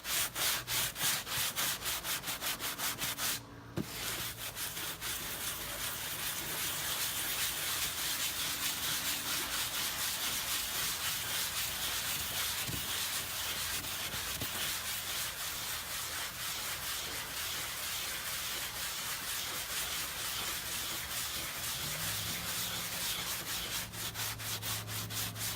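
A belt sander shapes a farm or model railroad layout, giving a steady, loud, continuous abrasive grinding roar that runs unbroken for the whole stretch, with a brief knock near the start and no voices.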